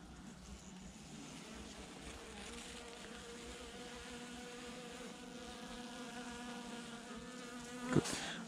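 Honey bees hum around a hive during beekeeping work with an oxalic acid treatment, a faint continuous droning buzz that holds steady throughout, with a brief clunk near the end.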